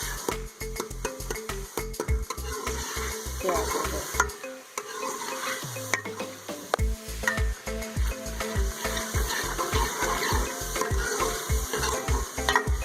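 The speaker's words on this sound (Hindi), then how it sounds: "मीडियम फ्लेम पर हम अच्छे से टमाटरों को फ्राई करेंगे" Tomatoes fry in a pan on a medium flame for an aloo baingan sabzi, with rapid rhythmic spatula scrapes and stirring over a constant sizzle. There is a short pause midway, a brief tone, then the stirring resumes; a voice speaks briefly.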